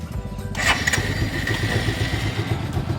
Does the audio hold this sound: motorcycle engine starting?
yes